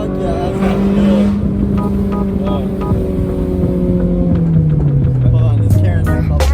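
A Honda S2000 with a straight-pipe exhaust revs loudly and up close, its raw, raspy engine tone holding high and then sliding steadily downward as the revs fall away.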